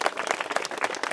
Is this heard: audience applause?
yes